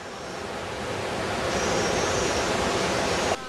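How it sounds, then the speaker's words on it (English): The rapids of the River Nile in Uganda rush in a dense, continuous roar of churning water, steady and fairly loud, with a breezy wind-like wash and no voices. "the rapids of the River Nile"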